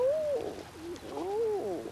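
A racing pigeon coos close by at a pigeon race, soft repeated throaty rising-and-falling coos in a gentle rhythm, heard alone.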